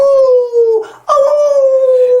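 A long, drawn-out dog or wolf howl rises loud and close, dips briefly in the middle, then resumes as a sustained wavering tone.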